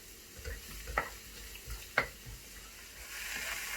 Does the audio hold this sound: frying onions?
yes